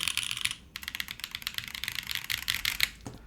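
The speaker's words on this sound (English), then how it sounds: "Upside down keyboard. The switches sound really nice." Typing on a mechanical keyboard fitted with Hilltop switches, a steady run of quick, crisp key clicks close to the mic, with a brief pause near the start and no talking.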